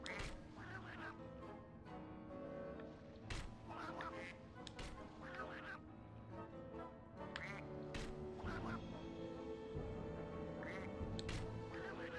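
Ducks in MediEvil: Resurrection's Sleeping Village, repeated quacks at irregular intervals over a dense, busy game soundtrack with sharp percussive hits mixed in.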